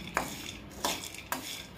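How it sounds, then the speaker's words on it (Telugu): Peanuts stirred and dry-roasted in a pan for a spicy Rayalaseema-style peanut chutney, three distinct scraping clatters spaced apart, close and moderately quiet with no talking. "ముందుగా వేరుశెనగకాయలు తీసుకొని బాగా వేయించుకోవాలి"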